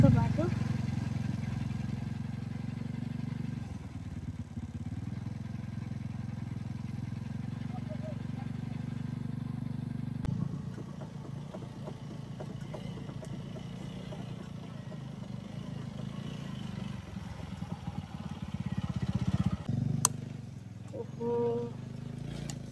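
A scooter engine drones steadily as it struggles along a very muddy road near Chaukidanda in Chitwan, Nepal. The hum is fairly close, a voice talks over it, and a brief sharp knock comes near the end.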